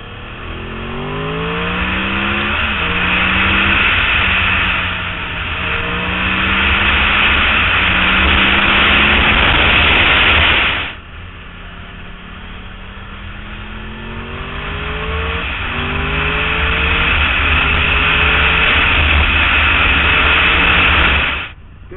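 A Yamaha R1 motorcycle accelerates hard through rising gears, engine pitch climbing in repeated sweeps, loud and close, with a brief drop before another long surge.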